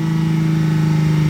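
Chrysler Crossfire with a stainless steel exhaust held at about 4,000 RPM, a steady, loud, humming engine tone that stays close and even throughout, with no voices.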